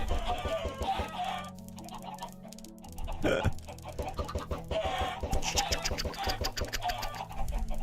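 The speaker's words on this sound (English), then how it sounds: "There we go, we got a few chickens coming out." Chickens cluck repeatedly in a modded Minecraft game, short pecking calls scattered over busy game sounds and rhythmic background noise.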